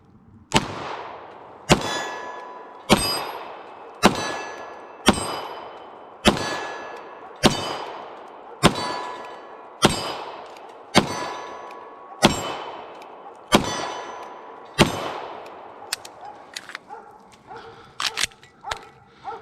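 A steady string of about a dozen Beretta M9A3 pistol shots clangs off steel targets, each crack trailing a ringing metallic decay, evenly paced, then a quicker flurry of lighter hits at the end.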